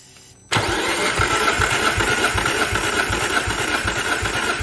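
An Audi TT Mk1 engine cranks at full throttle during a compression test, a loud, steady run of rhythmic starter-motor pulses that kicks in abruptly after a brief quiet moment and continues with no talking.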